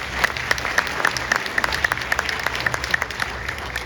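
Steady, dense applause from an audience at a volunteer awards gala, with many hands clapping in a brisk, even rhythm throughout, sustained and fairly loud without a break.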